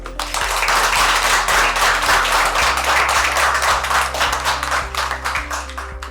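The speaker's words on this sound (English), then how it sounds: "Everybody to be given a very big applause." A large audience at a summer programme grand launch gives loud, continuous applause, dense clapping that stays steady throughout with no speech over it.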